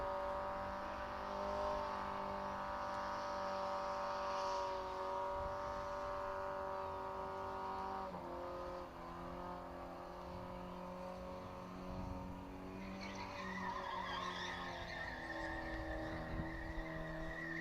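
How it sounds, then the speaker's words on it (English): A drift car slides across a concrete pad with tyre smoke rising, its engine droning steadily at a distance, changing pitch midway, with faint tyre scrub and no voices. "Not too much tyre smoke there at the moment, so he may just need to slow this skid down, get that smoke a bit more intense."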